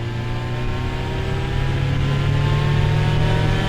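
A Mazda RX7 Pandem with a big single turbo pulls hard under acceleration, its engine a loud, steady, rising drone heard from inside the car with three adults aboard, no talking.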